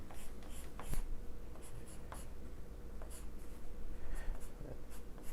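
Pen or pencil scratching across paper while sketching a cute cartoon bat, with short strokes and light taps in an irregular rhythm, close and fairly quiet, with no voice.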